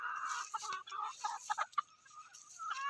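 A Feldspar gray gamefowl stag clucks nearby in quick, irregular bursts of short calls with small gaps between them, and no voices are heard.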